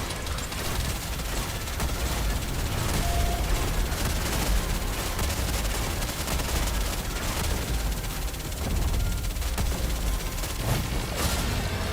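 Dense, continuous gunfire from the video game Nikke, rapid shots and bursts piling into a steady roar across the whole stretch, loud and close, with a brief voice buried underneath.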